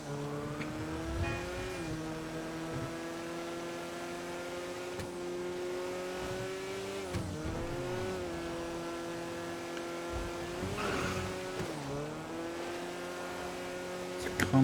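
A synthetic car engine hums and revs continuously, pitch dipping and climbing with shifts, with game-style background sounds throughout.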